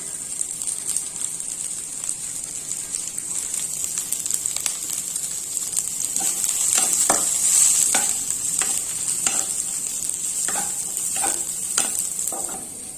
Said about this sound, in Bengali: এখন বাঁধাকপি গাজরটাকে হালকা ভেজে নেব।